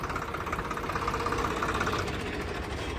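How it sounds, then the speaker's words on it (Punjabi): A modified Swaraj 735 tractor engine idles with a steady, throbbing rumble, close by and continuous, with no voices. "ਟਰੈਕਟਰ ਦੀ ਸਟਾਰਟਿੰਗ ਪੂਰੀ ਓਕੇ ਆ"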